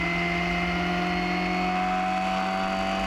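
A Crossflow Cup race car in a racing game holds full throttle through fourth gear at Sonoma. The engine gives a steady, loud, buzzing drone with strong tonal harmonics, close and continuous throughout.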